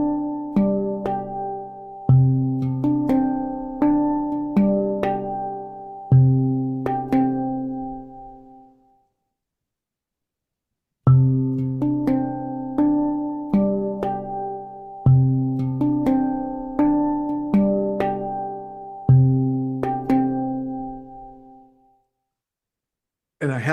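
Handpan notes ring out in two separate phrases of resonant, bell-like strikes, each tone struck clearly and left to decay, with a silent gap between the phrases and nothing else over them.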